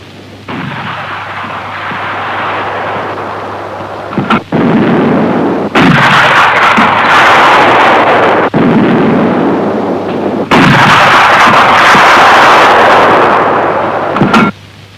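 A Saab gunfire simulator fires during a 1960s military training exercise, producing loud, roaring blast bursts in several long blocks separated by brief gaps.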